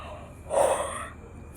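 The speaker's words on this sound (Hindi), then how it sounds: "सॉरी यार जम्हाई आ रहा है" A single close breathy yawn with a sharp intake of air, heard alone in a quiet room at night.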